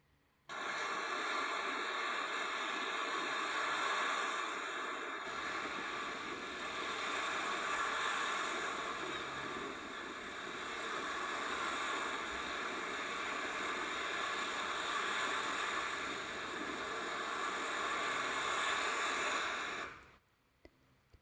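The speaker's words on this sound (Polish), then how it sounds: "szum Morza Bałtyckiego" Steady, rushing surf of Baltic Sea waves, a continuous broadband wash that holds at an even level for about twenty seconds before cutting off.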